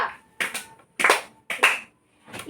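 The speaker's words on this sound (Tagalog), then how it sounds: "Bigyan natin siya ng 3 palakpak." Students in a classroom clapping together three times in short, sharp bursts, each clap close and distinct with brief pauses between, followed by a softer fourth tap.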